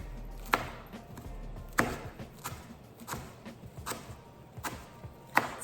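A knife slicing a rolled bundle of basil leaves into thin threads: about seven crisp, close cuts at an uneven, unhurried pace, with quiet handling in between.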